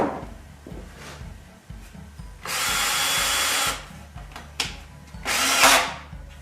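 Power drill drives screws into wood while building a small greenhouse, two loud whirring bursts of about a second each over a background of faint knocks and handling noise.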